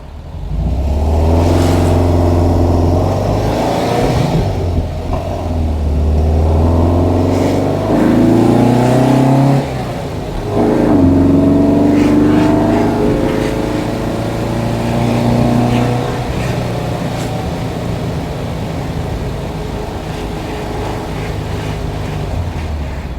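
A 1971 Volkswagen Type 3 Squareback air-cooled engine drives on the road, loud and close, rising and falling through gear changes with steady wind and road rumble throughout.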